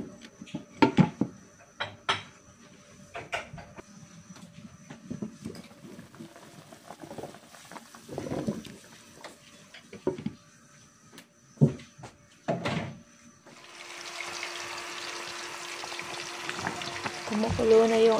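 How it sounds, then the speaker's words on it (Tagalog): Sinigang with meat cooks in a pot on the stove. Scattered clanks and stirring knocks come first, then a steady bubbling hiss of boiling broth rises and holds near the end. "Kumukulo na yung ating sinigang"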